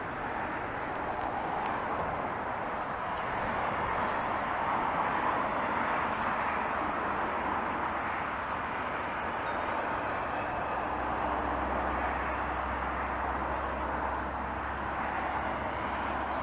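A Class 375 electric multiple unit, about four coaches long, arrives at Chestfield and Swalecliffe station as a steady, broad rumble and hiss that rolls on evenly at moderate distance, with a low drone building toward the end.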